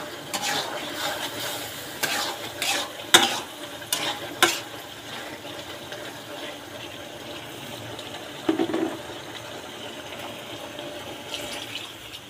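Fish curry masala, a spice paste being sautéed in a pan, giving a quiet, steady stir and scrape with low frying sizzle and a few sharper clinks of a spoon against the pan, no voices.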